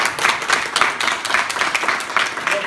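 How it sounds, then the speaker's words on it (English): Audience clapping for a speaker at a talk meeting in Scunthorpe, a moderate, even patter of hands heard from a short distance with no voices over it. "Big round of applause for Adrian."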